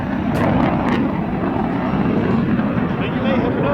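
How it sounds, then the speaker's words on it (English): A German Air Force Tornado fighter jet flies over during an aerobatic display, a broad, steady roar close and loud throughout, with a sharp burst or two near the start. "from the right, this is the beautiful German Air Force Tornado"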